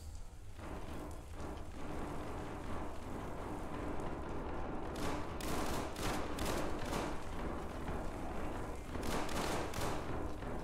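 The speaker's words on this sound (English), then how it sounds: "Who's shooting?" Sustained gunfire rattles through the zombie-infested SCP: 5K game world, a steady dense roar that swells into louder rapid bursts midway and again near the end, with no talking.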